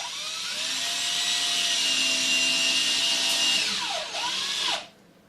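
A power drill drives screws to fasten a panel on a hardware cart, its motor whining loudly and steadily, then slowing with a couple of quick speed changes before cutting off.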